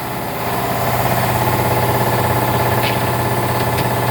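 An air compressor pump runs steadily indoors, a loud close mechanical drone with a rapid pulsing thump and a low hum, continuing without pause and without any talking.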